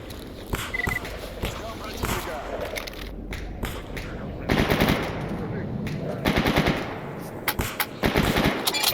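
Rapid bursts of automatic gunfire in the shooter game Stalker during an ambush at Pripyat Center, loud and repeated with short pauses, someone talking over them.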